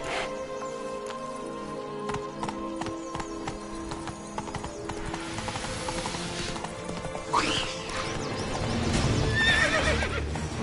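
Roach the horse neighs and whinnies while hooves clip-clop steadily underfoot, close and fairly loud, with a rising whinny near the end.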